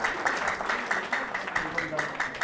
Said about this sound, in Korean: 조유진 강사님께 다시 한번 큰 박수 부탁드리겠습니다